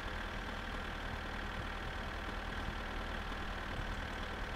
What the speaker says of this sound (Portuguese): Esse trator é muito lento, velho.